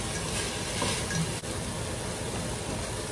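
Pork pieces sizzle in a pan over a medium flame while being stirred, a constant close frying hiss with a soft scrape partway through.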